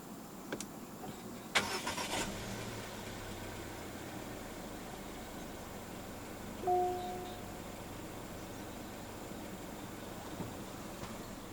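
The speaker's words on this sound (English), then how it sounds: "Put your foot on the brake and press the start button to the left of the steering wheel." A 2025 Chery Tiggo Cross with the 1.5 turbo engine starts up after the push-button start. A brief click and crank lead into a low, steady idle, heard from inside the car over a constant hum of ventilation and no voices.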